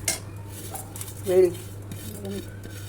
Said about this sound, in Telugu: కలుపుకోవాలి